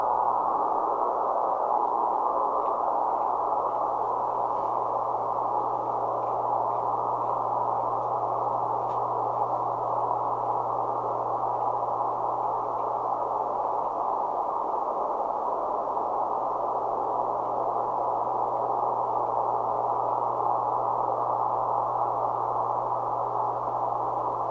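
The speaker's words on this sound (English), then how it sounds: "Those are digital tones." Steady digital tones come from an MFJ-9200 amateur radio tuned to Morse code CW, holding one continuous low pitched note over a hiss of background noise.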